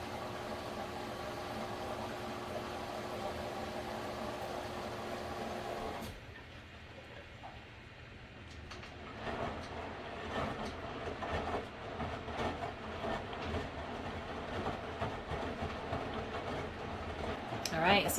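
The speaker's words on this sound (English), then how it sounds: "So this is it actually washing. You can hear it and see it." A Samsung electric stackable washing machine runs a wash cycle, giving a quiet, steady mechanical rumble that drops noticeably partway through, then continues with faint irregular clicks and knocks.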